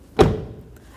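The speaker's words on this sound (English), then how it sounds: "Now we'll close the door" A front door on a 2003-2007 Honda Accord swings shut with a single solid, close thud, followed by a short fading rattle and a faint click.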